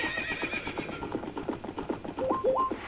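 A horse whinnies loudly in the Ocarina of Time HD video game, a wavering neigh over rhythmic hoof clip-clops, close and alone with a few synthetic game tones.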